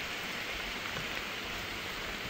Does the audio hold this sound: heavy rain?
yes